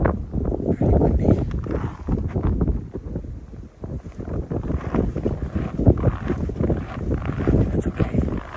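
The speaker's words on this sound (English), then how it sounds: "Pretty windy." Strong wind buffets outdoors on a cold day during a coyote hunt in Maine, producing loud, gusty rumbling bursts and fluttering that rise and fall throughout, with no speech over it.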